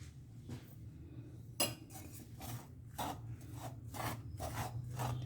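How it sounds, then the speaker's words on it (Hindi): Sugar is stirred into cooled khoa (mawa) in a pan for batak mawa gujhiya filling: soft, irregular scraping and rubbing strokes of a spoon against the pan, fairly quiet and close. "अब हम इसमें चीनी मिलाएंगे।"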